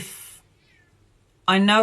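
A cat meows loudly and close by in an indoor room, one long drawn-out meow at the end, following a brief bit of voice and a quiet pause.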